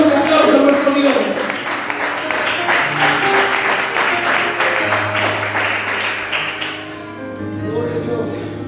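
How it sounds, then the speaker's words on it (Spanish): Church congregation clapping for God during a sermon, a loud burst of applause with rhythmic claps and voices, fading out near the end as a low tone lingers. "Da un fuerte aplauso a nuestro Dios"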